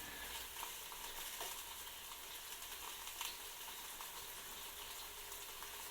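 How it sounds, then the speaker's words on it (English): Quiet, steady sizzling of meat cooking on an electric OptiGrill contact grill, a soft crackling hiss with occasional pops. "you can hear it sizzle quite a bit"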